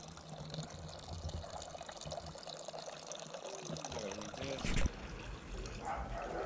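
Lukewarm water poured for brewing a 24-hour African beer (mnanti), a continuous trickling pour under background noise, with a brief louder splash near the end.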